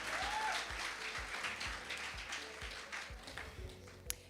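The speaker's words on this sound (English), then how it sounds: "Can we give her another round of applause?" Audience applause at a women-in-business seminar, a steady wash of clapping from a room of people that gradually thins out over a few seconds, ending with a single sharp tap.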